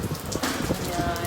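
Steady rain falling at a beach at low tide, a dense continuous patter of drops across the whole clip, fairly loud and close with no clear talk over it.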